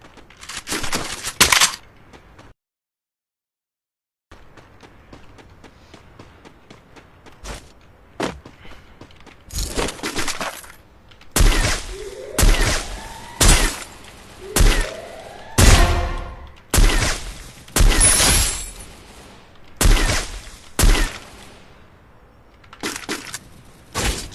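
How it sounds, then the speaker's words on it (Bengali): Gunfire in the mobile shooter game Free Fire, with headshots landing: sharp shots and quick bursts spread across the stretch, growing denser and louder toward the end, with a brief silent gap near the start. "আর আমি আমার টিমমেটের ড্র্যাগ হেডশট মারতেছি"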